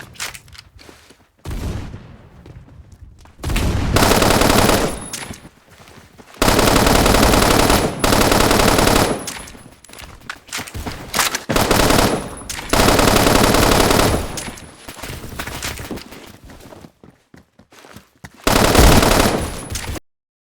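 Video game UMP45 fitted with a muzzle booster fires loud sustained automatic bursts, several long strings of rapid shots separated by short pauses, close and dominant with no talking.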